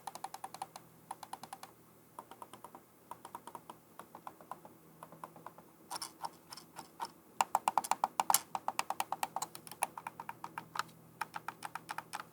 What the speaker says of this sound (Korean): 마우스 클릭 소음은 요 정도 되겠습니다.